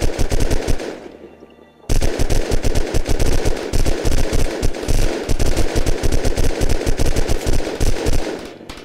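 Automatic gunfire in the survival video game Unturned during a raid on a metal base, loud rapid bursts that keep up almost without a break, with one brief lull near the start.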